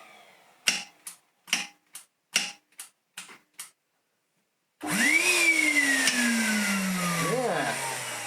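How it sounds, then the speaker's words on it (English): A 22-year-old Numatic George carpet cleaner with a faulty pump clicks about eight times at an uneven pace. After a short silence, its motor starts up with a loud, rising and then falling whine. "That was making a sort of clicking sound, as if it was trying to move but wasn't"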